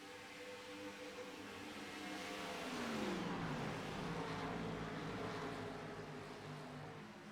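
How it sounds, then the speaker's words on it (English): Race cars in a racing video game, a faint blended engine drone rising then dropping in pitch as revs fall, a pack of cars heard together, no talk. "You can hear a few cars. The way that the revs just dropped."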